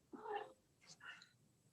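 A domestic cat gives two short, close meows indoors, the first louder and drawn out, the second softer and broken, against a quiet room background.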